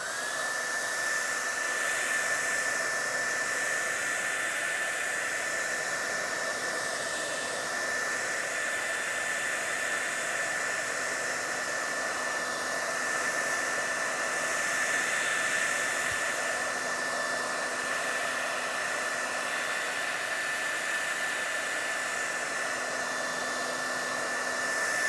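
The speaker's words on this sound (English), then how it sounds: "then I'm gonna take my blow dryer and put it on high heat" A blow dryer set to high heat blasts steadily and loudly up close while drying wet milk paint, an unbroken whooshing roar with a faint whine riding on top.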